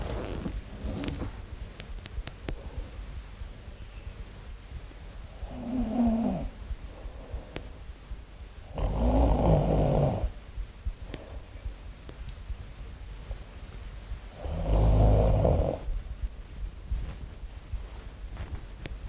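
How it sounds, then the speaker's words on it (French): A sleeping woman snores softly indoors in slow, widely spaced breaths, each a low rumbling rasp rising out of a quiet background hum, with no talking. "Elle ronfle, elle dort."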